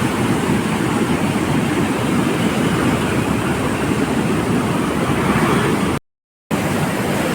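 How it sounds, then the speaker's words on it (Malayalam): Water gushes out of the Velliyankallu regulator-cum-bridge on the Bharathapuzha river during the monsoon in a heavy, continuous roar, loud and near, broken only by a brief moment of silence. "നല്ല ഗംഭീരമായിട്ട് വെള്ളം പുറത്തേക്ക് അടിക്കൊണ്ടിരിക്കണം"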